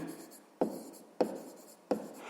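Pen writing out a sixth-grade math solution on paper, three sharp scratchy strokes at steady intervals, close and clear with quiet room tone between them.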